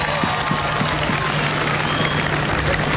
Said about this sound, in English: Please, one more round of applause for our little NAB Auskickers